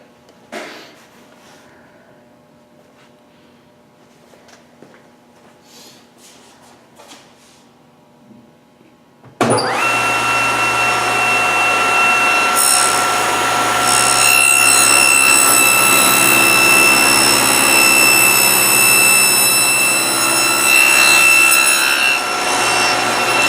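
Power saw cutting a test pass on an angled wooden tenon for a rocker: quiet handling noises, then the saw starts abruptly into a loud sustained whine with a steady hum, close by, without talk.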